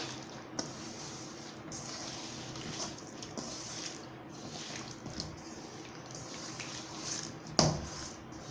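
Soft, wet squishing and squelching as masala is mixed into fish pieces by hand, a quiet continuous mixing with a sharper splat near the end.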